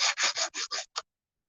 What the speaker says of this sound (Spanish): también con el limatón o con una lima